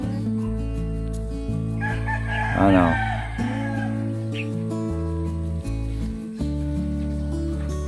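Birds outdoors in a rural province, with a rooster crowing loudly midway among clucking fowl, over a steady musical background; a person briefly speaks.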